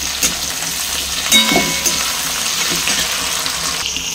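Green chillies sizzle and crackle in hot fish oil in a pan, a steady close frying hiss with a few sharper pops and stirring clinks, no voices.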